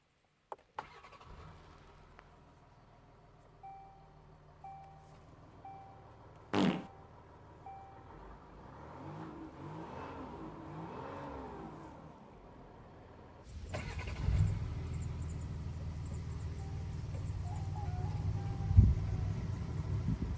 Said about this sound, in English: But before we check out everything, we must start the Amarok.